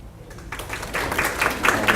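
Audience applause at a gubernatorial forum on higher education, a broad wash of clapping that swells and grows denser over two seconds, steady and fairly close with no talk over it.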